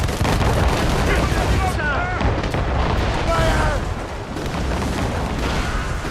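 Ship cannons in Assassin's Creed Rogue fire in a dense naval battle, blending into a continuous loud roar of booms and rumble, with voices shouting over the din.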